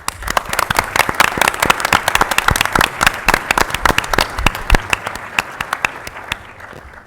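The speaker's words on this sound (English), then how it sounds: "Join me in giving them a round of applause" A room of people at a Mobile, Alabama city council meeting breaks into applause, a loud, dense patter of clapping that holds steady for several seconds before thinning and fading at the end.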